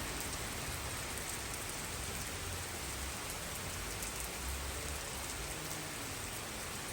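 Steady rain falls in Italy in an even, hissing wash of drops, constant and close, with no voices.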